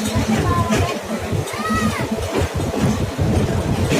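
Train ride with constant rhythmic rumble and clatter of the carriage, overlaid by nearby chatter and children's voices in the compartment.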